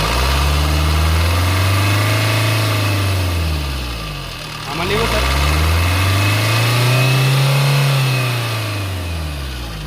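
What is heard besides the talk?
2018 Baleno diesel car engine idling and revving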